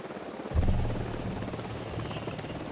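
Helicopter in the Ghost Recon Wildlands video game, its rotor thumping in as a loud close buzzing whir that swells suddenly and then holds steady, with no talking.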